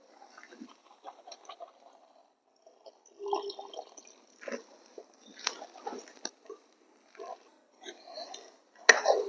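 Thick broken-wheat porridge (dalia) bubbling in a pot, with soft irregular plops and blurps at varying loudness, a sharper burst near the end.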